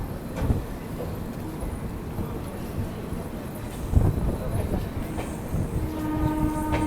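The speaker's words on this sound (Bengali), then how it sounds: "এই ট্রেন দেখুন বাঁ দিকে একটা কার্ভ সুন্দর নিয়েছে।" An express train with new LHB coaches, the 13185 Ganga Sagar Express, rolls out of Sakri Junction and curves left. A steady rumble and rhythmic clickety-clack of wheels over rail joints carry through, with occasional louder knocks.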